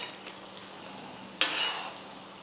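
Sweet rava appam batter frying one at a time in a small pan, a soft steady sizzle that swells suddenly near the middle as batter hits the hot oil, then settles back to a gentle hiss.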